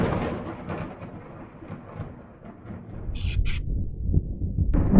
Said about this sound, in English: Thunder and lightning.